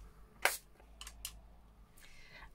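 A sharp, close spritz from a spray bottle, then two quick faint puffs and a longer, softer hiss of spray.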